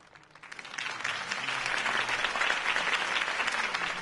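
Crowd applause following a campaign speech for Harvey Dent in a Batman video game, clapping that builds from a few hands into a full, sustained round of many people, with no speech over it.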